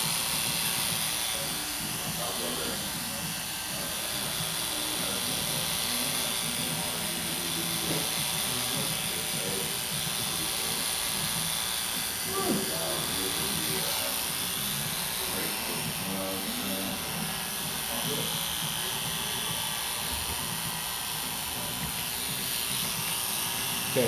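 Electric hair clippers buzzing during a mohawk and beard haircut, a steady close drone running the whole time, with speech faintly mixed under it.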